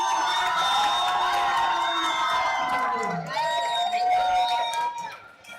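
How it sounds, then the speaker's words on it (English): A loud, dense crowd cheers and whoops continuously at a bouldering competition, the roar swelling and holding near, with shouting voices mixed through it before easing slightly at the end. "the crowd here is intense."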